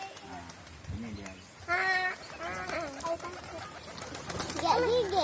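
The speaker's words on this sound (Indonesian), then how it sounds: "Burung merpati." Pigeons coo and flutter nearby on a white sand beach in Sabang, Aceh, Indonesia, while people talk over them.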